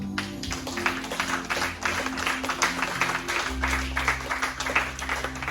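A church congregation applauds, steady clapping rolling on throughout with a low sustained tone beneath it, fairly loud and crowded, with no clear talk over it.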